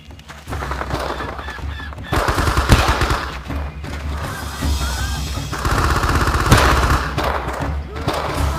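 Machine gun and rifle fire in the Vietnam-era shooter Men of Valor, with an M14 rifle among the weapons: a dense, steady barrage of rapid shots with heavier bursts, and shouting voices mixed into the combat.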